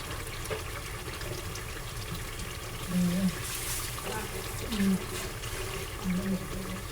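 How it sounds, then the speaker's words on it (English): Water poured from a container into a pot of okra stew, a steady liquid splash and trickle running continuously with a few brief low knocks, close by under faint talk. "So here's some water that I'm gonna add."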